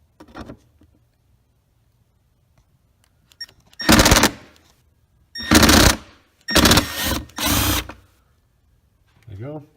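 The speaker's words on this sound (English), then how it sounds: "We're using the T25 Torx to remove the screws." Screws being backed out with a T25 Torx driver on a Mercedes C- or E-Class (W204/W211) during an engine filter job: four loud, close bursts of buzzing tool noise, each about a second long, separated by quiet gaps.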